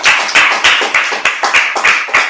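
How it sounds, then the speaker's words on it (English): A worship congregation at a Feast of First Fruits closing claps in a rhythmic, evenly spaced beat, about three claps per second, close and loud, with no talking. "Clap it up."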